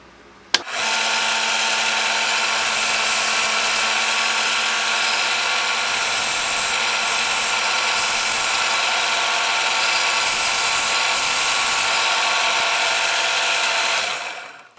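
A loud, steady whir of a belt sander grinding a nub off a brass hammer head, running continuously with slight changes in pitch as pressure varies, then stopping at the end.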